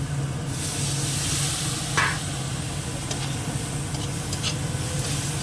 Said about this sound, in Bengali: একটু কষিয়ে নিই মশলাটাকে